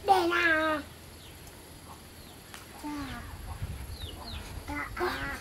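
A rooster calls loudly in a rural yard, with a strong burst at the start and another near the end, separated by quieter stretches of faint background noise.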